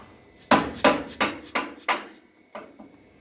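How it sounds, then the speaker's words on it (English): A bushing is tapped into the front suspension of a 1941 Dodge truck with a run of sharp, ringing metal knocks, about six at a steady pace and then a softer pair, close and loud with no talk. "Now this bushing will slide in here. It'll slide all the way through, hopefully."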